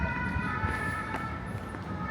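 An emergency vehicle siren sounds on a street in Paris, steady tones held faintly at a distance over low traffic rumble, with no one talking.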